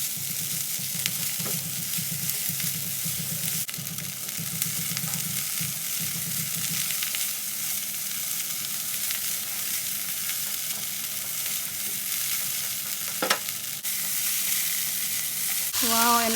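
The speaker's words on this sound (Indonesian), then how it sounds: "Masukkan daun bawang, cabai rawit merah. Dimasak lagi sampai benar-benar merata." Hong Kong-style fried rice with scallions and red chili stir-fries in a hot pan, a constant loud sizzle with occasional scraping stirs and a brief clatter near the end, close up and without talk.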